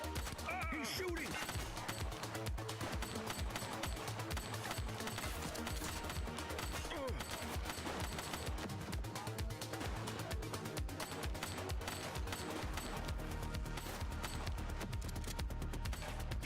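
Dense, continuous gunfire in The Precinct video game, rapid overlapping shots and bursts rattling throughout alongside crashing impacts, loud and sustained with no let-up.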